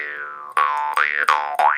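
Twangy, wobbling jaw harp notes, four plucks with pitch sweeping and bending in a bouncy rhythm, close and fairly loud.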